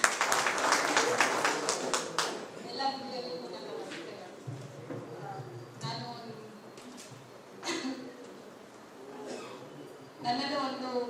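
A brief ripple of audience clapping at an indoor Human Rights Day event fades within a couple of seconds, followed by someone speaking into a microphone in a quiet hall, with a few scattered claps later.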